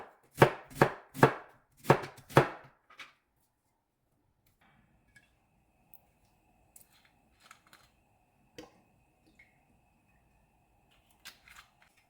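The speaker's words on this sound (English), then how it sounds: "I'm gonna grab my half an onion, dice that up" Half an onion diced with a knife: five sharp, evenly spaced chops on a board, close and clear, then near silence with a few faint scattered taps and clicks.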